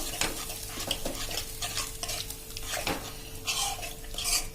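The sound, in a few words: stirring curd and spices in a pan with a spoon on full flame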